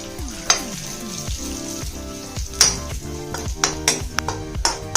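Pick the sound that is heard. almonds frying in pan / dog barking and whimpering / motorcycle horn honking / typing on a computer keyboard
almonds frying in pan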